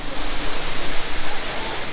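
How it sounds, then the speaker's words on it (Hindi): Waterfall rushing beside a mountain road in Kinnaur, a steady, loud, broadband roar of falling water filling the whole clip with no pauses and no voices. "भाई ये जो झरना है ना"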